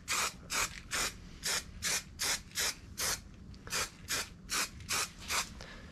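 Raptor bed liner sprayed from an aerosol can, a series of about a dozen short, evenly spaced hissing bursts with brief pauses between, close by and with no voices.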